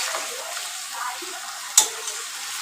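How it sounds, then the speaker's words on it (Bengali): Chicken is stirred and sautéed in oil Aminia style, giving a soft, steady sizzle with scraping stirs and one sharp clack of a utensil partway through; fairly quiet and close, with no talk. "আমি একটু একটু করে দিয়ে দিয়ে এটাকে কষাচ্ছি"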